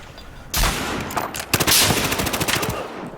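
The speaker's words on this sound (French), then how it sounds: "Oula, je prends des tirs." Gunfire in the video game Battlefield Hardline during multiplayer, bursts of rapid automatic shots with sharp single cracks, loud and close, starting after a brief quiet moment.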